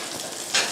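Scallion and garlic sauteing in a hot pan give a brief, steady sizzle that swells louder near the end, close and alone with no talking.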